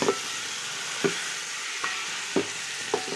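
A spoon scrapes through country chicken biryani cooking in a pot, making about five short stirring strokes over a soft, steady sizzle.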